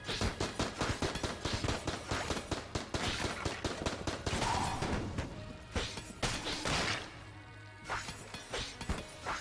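Dense, rapid gunfire from the Blasphemy in Enter the Gungeon, a steady run of sharp shots mixed with crashing impacts, briefly thinning before resuming.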